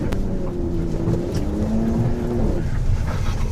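A four-wheel-drive vehicle idles nearby with its engine fan running, a steady, close droning hum with a low mechanical tone that holds evenly throughout, with no voices over it.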